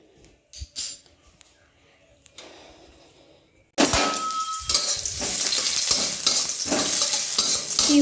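Food being stirred and fried in a home kitchen pan while making a meal, with a loud, continuous sizzle and scraping strokes that start abruptly after a quiet opening with a few clinks.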